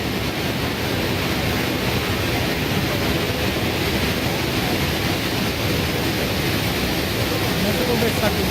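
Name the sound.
waterfall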